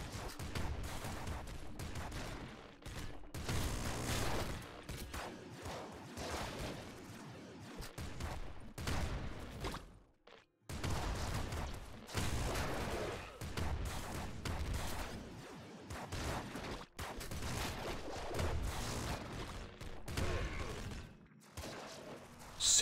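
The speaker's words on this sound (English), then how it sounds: "Super heavy grenade launcher." A super heavy grenade launcher fires in the game Nuclear Throne amid dense, continuous explosive blasts and gunfire that rumble nearly nonstop, broken only by a brief pause midway.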